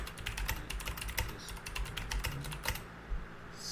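Fast typing on a computer keyboard while writing a post in a web app, heard as a steady, close run of light clicking keystrokes with no speech.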